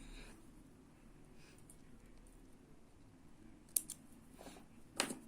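Scissors snipping bead thread, two short crisp cuts near the end of an otherwise quiet stretch, close and clear with no speech.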